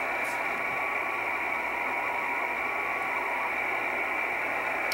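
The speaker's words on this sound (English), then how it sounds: "I think you'll easily find some RTTY signals on the bands" A weak amateur radio RTTY (radio teletype) data signal buried in hiss and static, holding an even tone throughout with no voices.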